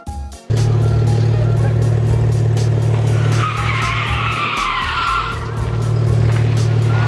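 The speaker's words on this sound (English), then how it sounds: "Come on, do a burnout." A straight-piped Ferrari does a burnout, its engine blaring loud and close as the tires squeal and skid in a sustained screech that swells midway, with no speech over it.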